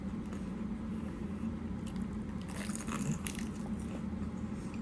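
A bite into a fried banana and jackfruit roll (turon) gives a short cluster of soft crunching near the middle, close up, over a faint constant hum.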